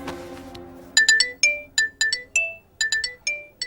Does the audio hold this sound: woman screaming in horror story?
no